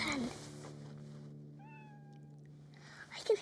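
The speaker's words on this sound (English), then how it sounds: "I can hear a cat meowing" A single cat meow sounds faintly in a quiet street, a short rising cry in the middle of a soft, steady background hum.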